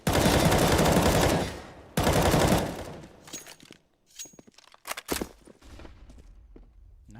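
Rifle gunfire in Counter-Strike on the Cache map: two long sustained bursts of automatic fire, followed by scattered single shots, footsteps and clatter.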